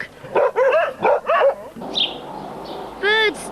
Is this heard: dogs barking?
yes